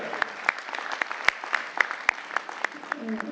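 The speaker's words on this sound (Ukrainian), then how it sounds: "Будь ласка, ваші овації." A small audience at a regional charity contest claps steadily, with individual sharp claps standing out against the scattered applause.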